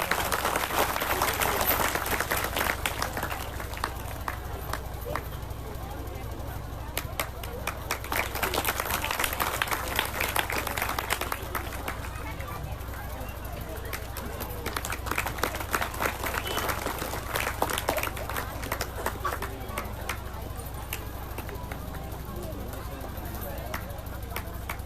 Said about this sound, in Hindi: सभी भक्तों के लिए जोरदार तालियां।